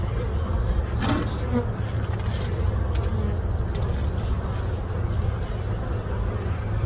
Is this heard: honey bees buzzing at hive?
yes